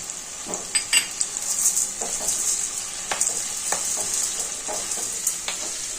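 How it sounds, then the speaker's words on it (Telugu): Toor dal and chana dal dry-roasting in a pan until reddish, with a constant bright hiss under repeated light scrapes and rattles of a spoon stirring the lentils, close and steady throughout. "కందిపప్పు, శనగపప్పు బాగా కొంచెం ఎర్రగా అయ్యే వరకు వేయించుకోవాలి"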